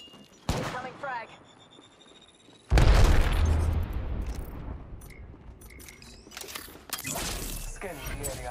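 A frag grenade explodes in the shooter game Apex Legends: a sharp report, then a loud deep boom with a long rumbling, debris-filled decay, followed by further cracks of gunfire, with character voice lines heard around it.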